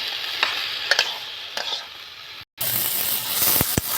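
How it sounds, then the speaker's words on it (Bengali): Ground cumin, spices and chopped tomato sautéed in a pan for a fish and potato curry, a close sizzle with spatula scrapes and clicks, briefly cut by a silent gap. "জিরে গুঁড়ো দিয়ে দেবো, একটা টমেটো কেটে রেখেছি এটা দিয়ে দেবো। ভালো করে কষে নেব।"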